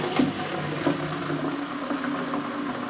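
Liquid fertilizer is free-poured from a bottle into potted houseplants, a steady close splashing trickle with a few gurgling bursts.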